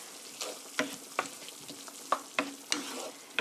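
Chopped tomatoes are stir-fried in a pan for penne sauce, with a soft sizzle under a series of light, irregular spatula scrapes and taps, close and faint.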